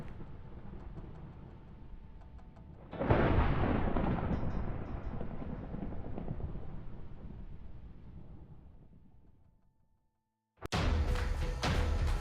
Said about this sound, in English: Ominous thunder.